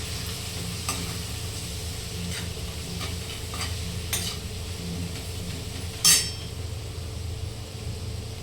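Curry leaves sizzle in hot oil while gavar (cluster bean) bhaji is being cooked. A steady, close hiss runs throughout, with a few soft utensil clinks and one sharper metallic clink near the end, and nobody speaks.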